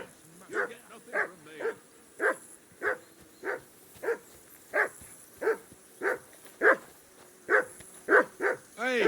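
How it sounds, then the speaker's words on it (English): A dog barks repeatedly in a medieval role-playing game, a dozen or so evenly spaced sharp barks at close range, with no speech. "Hey, call off that dog and then we can talk."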